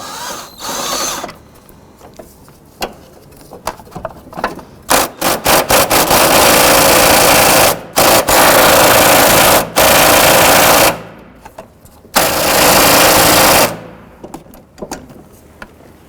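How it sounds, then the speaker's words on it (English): Power tool or ratchet zipping out 14mm bolts from the triangular transmission mount panel on a 2007-2011 Honda Civic, loud bursts of whirring separated by short clicks and pauses. "we're going to go ahead and remove the other 2 14mm bolts from this triangular mounting panel"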